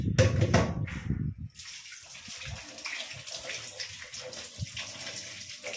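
Tap water runs while something is washed by hand, starting with a loud splashing burst before settling into a quieter, steady flow with occasional splashes.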